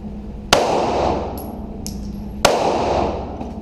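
Two sharp gunshots ring out at a shooting range during a target acquisition drill, about two seconds apart, each a loud crack followed by a short echoing decay, with faint metallic pings from the targets between them.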